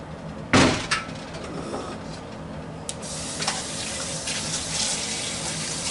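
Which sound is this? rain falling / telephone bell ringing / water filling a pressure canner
water filling a pressure canner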